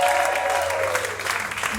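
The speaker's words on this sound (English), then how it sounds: "Big round of applause for yourselves." Comedy club audience at a stand-up show applauding together, a steady wash of clapping that stays loud and even from start to finish with no voices over it.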